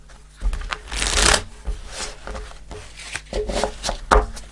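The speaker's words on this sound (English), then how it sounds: "this particular deck always needs a bit more shuffling, so bear with me" A tarot card deck is shuffled close up in quick, papery riffles and soft slaps, with irregular bursts and pauses, and no talking.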